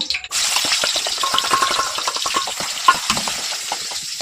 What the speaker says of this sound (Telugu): తిరగమాత గింజలు ఆనియన్స్ వేస్తున్నాను